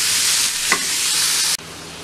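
Meat sizzles loudly as it is stirred in a hot pan with minced garlic, onion, salt and pepper, a steady close frying hiss broken by a scrape of the spoon, with no voices.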